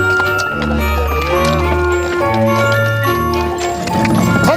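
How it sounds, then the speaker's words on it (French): A horse trotting among vineyard rows, its steady clip-clop hoofbeats mixing with tonal voices and other outdoor sounds, close by and fairly loud throughout. "Allez Roméo, trotte"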